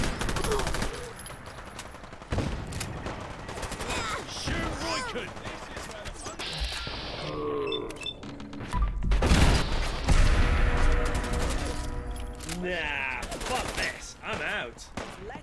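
Gunfire in the Fallout London video game: repeated bursts of shots and fusillades across the whole stretch, mixed with game music, mechanical clanks and shouting voices, loud and dense throughout.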